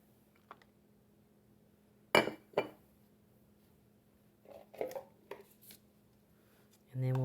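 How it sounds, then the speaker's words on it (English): Lids pressed onto containers of homemade chocolate keto ice cream, a few separate close plastic clacks and taps with quiet gaps between them. "And then we'll put the lids on."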